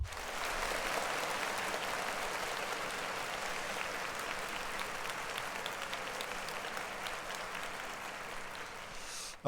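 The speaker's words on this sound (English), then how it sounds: "Clap it up for them." Audience applause during a Monday service, a continuous broad patter of many hands clapping that holds steady for several seconds at moderate distance, ending abruptly.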